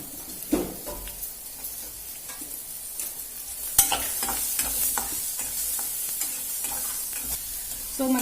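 Green chillies crackling in hot tempering oil for a coconut chutney, a low steady sizzle broken by scattered sharp pops and a few spoon scrapes against the pan.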